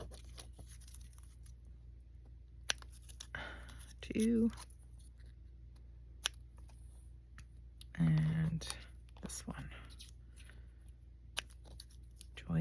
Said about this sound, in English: cut the rest of these out with my massive scissors